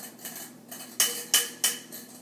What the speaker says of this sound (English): I'm going to just smash it against the bowl so that it hangs together.